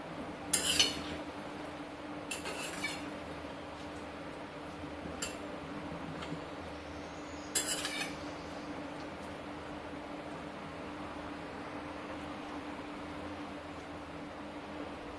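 A spoon stirs cowpea pod vegetable in a pot with ground peanut, coconut, garlic and salt, giving a few faint, scattered metallic clinks over a quiet, hissy kitchen background.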